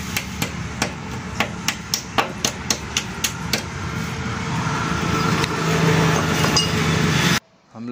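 Sharp metallic hammer blows on a motorcycle handle lock while it is being changed, about a dozen evenly spaced strikes up close, then a steady engine-like hum takes over before an abrupt cut.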